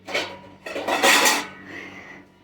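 Oranges dropped into a bowl, giving a couple of close dish clatters and knocks followed by a brief scraping rattle that fades out.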